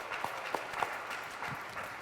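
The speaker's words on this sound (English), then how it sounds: "Councilwoman Roundtree, a big round of applause." A small audience at a Newark African commission event claps, a faint, sparse patter of hands with a few sharper individual claps standing out in a quiet room.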